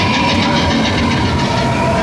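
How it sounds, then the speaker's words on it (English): A Disneyland train passes close by at night amid weekend crowds, a loud continuous rumble and rattle of wheels and cars that holds steady throughout. "Oh, there goes a train."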